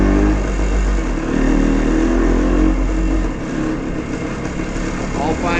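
A 1973 Kawasaki F11 250cc motorcycle ridden slowly indoors through a museum, its engine a close, steady drone that eases slightly partway through.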